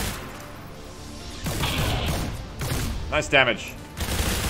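Soldiers' weapons firing in XCOM 2 during a fight with a muton, as loud bursts of gunfire and crashing impacts, with a voice speaking over part of it.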